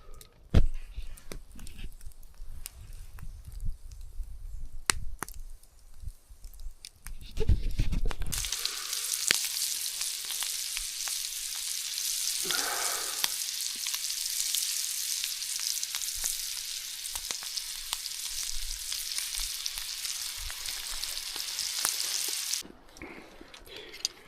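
Steak frying in a pan outdoors on a freezing night in the Scottish Highlands: scattered faint ticks and pops at first, then a loud, continuous, close sizzle that runs for about fifteen seconds before cutting off, with no talking.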